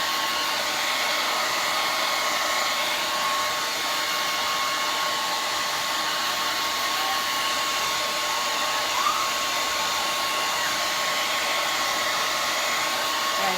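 A handheld blow dryer drying hair roars with a steady, loud, unbroken airflow hum from start to end, heard on its own without voices.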